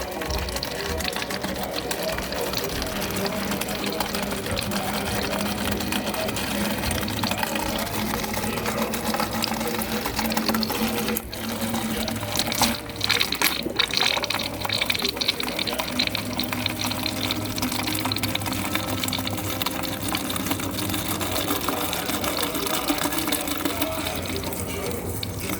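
Water runs steadily from the dispenser of a Frigidaire Gallery refrigerator to bleed air out of a newly fitted water filter, a continuous close-up rushing with brief sputters and clicks partway through.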